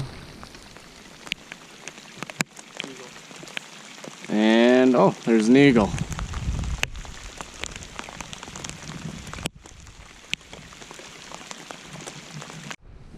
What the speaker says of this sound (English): Getting a little bit of morning rain.